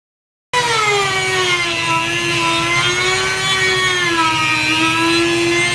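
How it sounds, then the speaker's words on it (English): Power drill boring holes through a wooden lyre tailpiece for the tail gut, a loud steady motor whine with strong harmonics that runs without a break after an abrupt start. "I'm drilling out the holes where the tail gut goes while I still have a stable piece of wood to do it."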